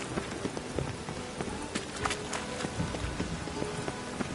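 Steady rain pours down in a Witcher-style open-world game set in a Novigrad-like city, a dense, even hiss of drops on surfaces with scattered louder patters and faint ambient sounds underneath.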